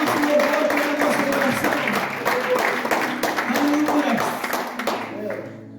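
A church congregation applauds during a worship service, giving steady, dense clapping that runs the whole time over music and voices and tapers off near the end.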